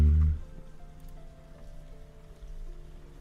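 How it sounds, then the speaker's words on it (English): Steady rain pattering on a surface, faint and continuous, with a soft musical tone from Old School RuneScape underneath and a brief louder thump at the very start. "OSRS music with rain and thunder."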